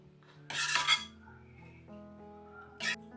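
A spatula scrapes upma across a dosa on a hot street-style griddle, making two short, bright metallic scrapes with quiet low hum between them.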